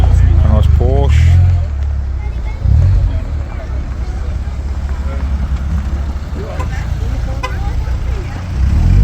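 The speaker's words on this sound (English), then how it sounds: "A couple more coming in. Got a nice Golf, a nice Porsche." Cars, including a Golf and a Porsche, roll into an evening car meet, engines rumbling nearby under steady crowd chatter and someone talking, with a brief louder rev.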